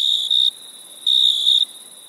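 Crickets chirp in a steady close trill, sounding in two clear bursts with short gaps between, alone over a quiet background.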